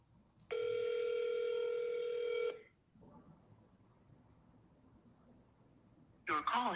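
A telephone dial tone sounds loud and steady for about two seconds as a call is placed, then drops to quiet line noise before a brief burst of sound at the end.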